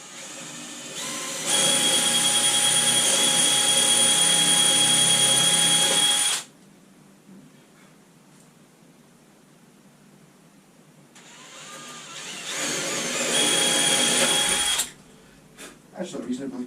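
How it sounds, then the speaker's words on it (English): Power drill boring holes straight through a solid guitar body, a loud close whine running several seconds, pausing, then rising again for a second long burst, with faint talk in the quiet gap. "I'm just drilling the holes right through the whole guitar"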